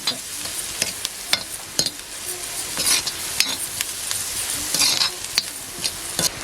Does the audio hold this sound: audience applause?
no